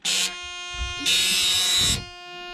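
The dump bed alarm buzzer on a Peterbilt 359 truck sounds in two steady tonal bursts, a short one then a longer one, with mechanical clunks and rumble between them.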